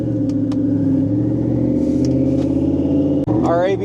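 A 1550whp twin-turbo Shelby F150 pickup accelerates onto a freeway, its engine droning loud and steady with a deep harmonic rumble, then a brief lift and a rising whine near the end.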